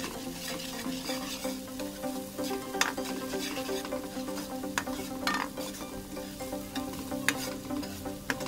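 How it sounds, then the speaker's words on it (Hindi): Onions frying in a pan for a chicken and taro root curry, a steady close sizzle with scattered crackles and occasional stirring clicks throughout, no voices. "थोड़ा सा हम इसको फ्राई करेंगे प्याज को 3-4 मिनट"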